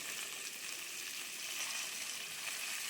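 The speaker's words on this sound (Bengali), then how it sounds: "সর্ষের তেল জিরে শুকনো লঙ্কা তেজপাতা ফোড়ন দিয়ে দিলাম" Cumin, dry red chili and bay leaf sizzling in hot mustard oil as a tempering for cabbage ghonto, a steady soft crackle heard alone and fairly quiet.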